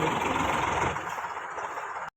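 A loaded farm tractor engine rumbles close by, loud for a moment before settling to a quieter, uneven idle that cuts off abruptly.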